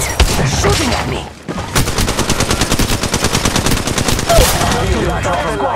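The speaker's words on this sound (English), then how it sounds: "They're shooting at me." Rapid bursts of automatic gunfire from a video game firefight, loud and close, rattling steadily with dense repeated shots and a brief lull early on.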